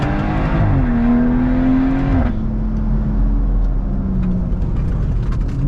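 BMW B58 inline-six exhaust on a drive, heard from inside the car, loud and close, with a strong rise in revs that drops sharply after a shift into a steadier, deeper drone.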